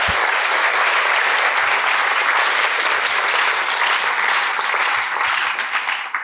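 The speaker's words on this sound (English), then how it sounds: "can I ask you all to give them a big round of applause?" An audience at a workshop breaks into a big round of applause. The clapping is loud, dense and continuous from start to finish, with no one talking over it.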